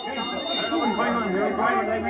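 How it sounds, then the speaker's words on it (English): Change bell ringing as a radio drama sound effect, its sustained metallic tones holding steady beneath a crowd's low murmur and a voice for about two seconds. "Once again, the change bell has sounded."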